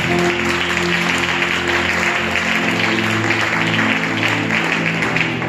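A church congregation applauds during a Sunday worship service, a dense, steady wave of clapping that holds at an even level for several seconds with no voices over it.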